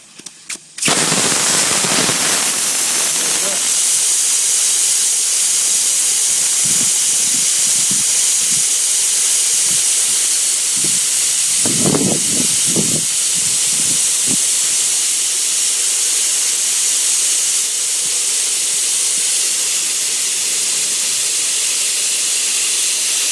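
Air hisses loudly and steadily out of a tyre through a rapid tyre deflator, letting it down from 40 to 22 PSI. After a few short clicks at the start, the continuous close-up rush carries on throughout, with faint rattles beneath it.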